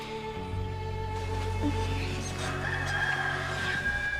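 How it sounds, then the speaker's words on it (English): A rooster crows in a rural countryside setting, one drawn-out call rising over a steady low background hum at moderate distance, with no voices. "that rooster you hate so much gonna start crowing."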